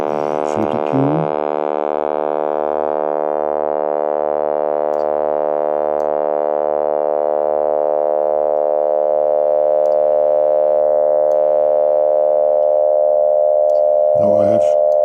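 Elektor Formant synthesizer filter bands in Voltage Modular, a steady buzzy drone whose resonant formant peaks sharpen and shift slowly as the filter Q changes, with brief speech at the start and end.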